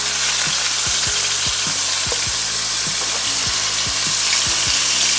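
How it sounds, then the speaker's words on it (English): Loud, continuous sizzling of chicken frying in a hot pan, a crackling hiss with faint rhythmic clicks underneath. "Let's get that first piece of chicken down in there and hear some sizzling."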